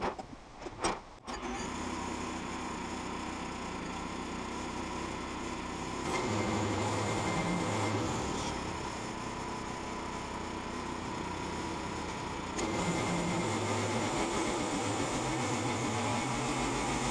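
Chainsaw cutting through a marsh log propped on a half-inch shim, the engine roaring steadily at full throttle close by for the whole stretch, with brief revving shifts partway through and no talk.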